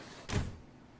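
A single drawer sliding open in Life Is Strange, one short soft scrape and thud about a third of a second long, fairly faint and alone.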